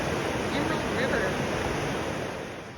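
Steady, broadband rushing water from the Emerald River, a blue mountain river along the Great Divide Trail. It is loud and constant, roaring close by and fading slightly at the end.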